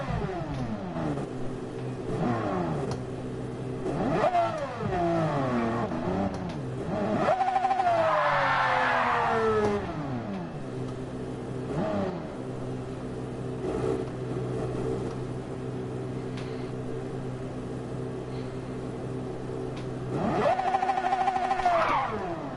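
A race car engine in the Gran Turismo 7 racing game revs repeatedly through rising and falling gear sweeps, loud and close, with a sustained high-revving burst near the middle and another near the end.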